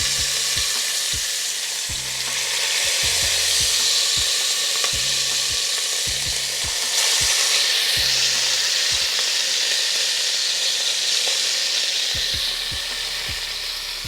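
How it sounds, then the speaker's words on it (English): Salted short ribs searing in hot avocado oil in a Dutch oven over high heat, a loud steady sizzle and spatter that runs throughout, broken by occasional low knocks. "Now we're going in with our salted short ribs."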